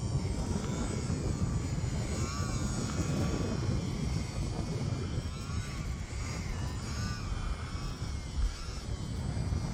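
A UMX Turbo Timber RC plane flies in wind, its electric motor and propeller giving a steady buzzing drone with gentle pitch shifts, backed by constant wind noise across the whole span.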